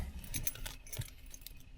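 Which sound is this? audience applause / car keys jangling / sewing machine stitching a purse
car keys jangling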